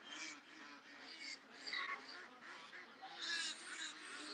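Ducks at a pond quack and chatter faintly in a busy overlapping cluster, irregular calls rising and falling at a distance with no voices present.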